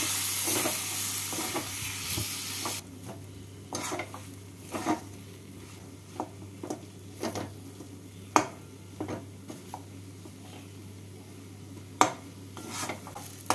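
Prawn filling frying with potatoes in a pan gives a continuous sizzle. A spatula stirs it with repeated scraping strokes and occasional sharp clinks against the pan, close and without speech.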